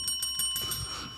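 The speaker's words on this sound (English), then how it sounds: "Positive bell to get started this morning." A bell rings out a few quick bright strikes on a morning radio show, the short metallic tones fading into a quiet studio.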